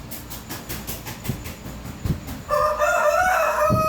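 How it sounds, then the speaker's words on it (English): Rhythmic clattering like a passing train gives way to a loud rooster crowing near the end, strained and close. "Now that's a rooster crowing"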